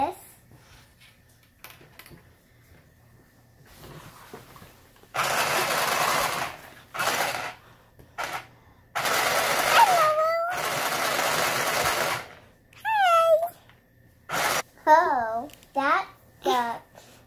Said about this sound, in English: So I'm going to sew this.